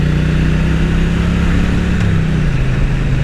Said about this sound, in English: You know, a nice loud motorcycle is